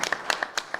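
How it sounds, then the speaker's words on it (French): A small audience at a telemedicine competition hearing claps for a presenter, a brief run of sparse, distinct hand claps from a few people, moderately close and spaced unevenly. "On peut l'applaudir."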